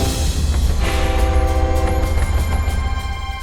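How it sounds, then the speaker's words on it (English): A train in a video game passes with a steady rumbling roll, a sustained horn-like tonal blare layered on top, loud and continuous with no talking. "Where is that train going, Mr. Oscar? The train is going far away, very far away indeed."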